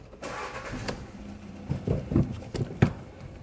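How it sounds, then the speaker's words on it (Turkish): A Volkswagen Polo being driven slowly forward and back in a parking test, a low engine hum with soft knocks and tyre sounds, fairly quiet and steady. "Aracı bir ileri geri yürüteceğim."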